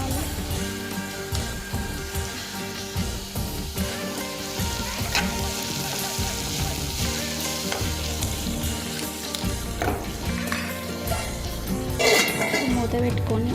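Salted food fries briskly in a pan until browning, a dense continuous sizzle and crackle with occasional stirring scrapes, while someone speaks over it.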